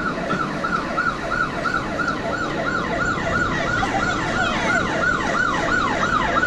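An ambulance siren wails in a fast, continuous rising-and-falling pattern throughout, loud and steady over road traffic noise, with no talking.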